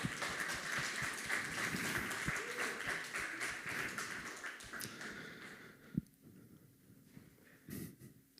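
A church congregation applauds during a Sunday service, loud sustained clapping that thins out and fades to a few scattered claps and sounds.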